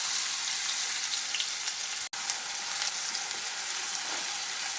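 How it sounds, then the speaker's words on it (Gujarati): Chopped onion sautés in hot oil with curry leaves and asafoetida for a bottle gourd curry. A loud, steady sizzle crackles close by without a break, apart from one tiny dropout midway. "હવે આ ડુંગળીને ટ્રાન્સપરન્ટ થાય ત્યાં સુધી આ રીતે એને સાતળી લઈશું."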